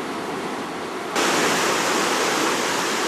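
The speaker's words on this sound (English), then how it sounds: "they're letting water in the lock by opening the gates a little bit up there" Water pours into lock number 11 at Mildura on the Murray River through partly opened gates, a loud, continuous hissing rush that swells sharply after about a second and then holds steady.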